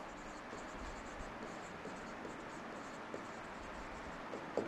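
During a live civil engineering lecture on reinforced concrete column design, a pen or marker writes in a soft, continuous scratching pattern, faint and close, with a few light taps near the end.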